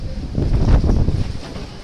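Strong wind buffets the microphone outdoors in cold, storm-like weather, a continuous loud low rumble with gusty swells and no talking.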